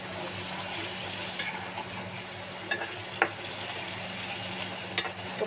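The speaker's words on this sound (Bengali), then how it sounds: "এখন আমি কোপ্তাগুলি দিয়ে দেব।" Chicken koftas frying in hot spiced oil with cardamom, cloves and cinnamon, giving a steady close sizzle with a few sharp clinks of a utensil against the pan.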